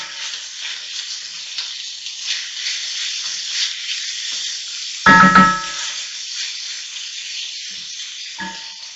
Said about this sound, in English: that's going to fry down. And we want to get these vegetables softened up a little bit